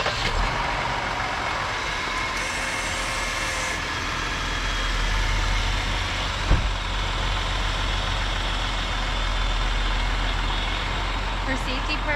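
A car engine idles steadily after a jump start from a FOXPEED G29 2500A battery booster, a low continuous rumble with faint mechanical tones and a brief click partway through.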